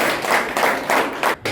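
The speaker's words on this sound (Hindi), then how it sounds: "तालियों के साथ स्वागत।" Applause welcoming a new member to the Aam Aadmi Party in Jammu, a short run of clapping in several uneven surges, close and moderately loud, cutting off abruptly.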